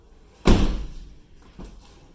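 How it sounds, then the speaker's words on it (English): A car door, its edge grinding against the fender, shuts with a loud, close thud, then a softer knock follows about a second later as it is handled again. "I'm gonna close the door, open again"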